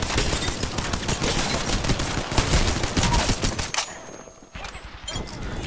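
Rapid bursts of gunfire from the video game Apex Legends crackle loudly and continuously, briefly thinning out before the shooting resumes near the end.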